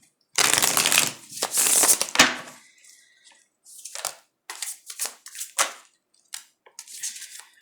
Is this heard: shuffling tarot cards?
yes